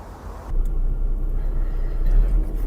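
VAZ car without power steering pulling away on the road, with a low engine rumble that swells in and holds steady under road noise, heard from inside the cabin.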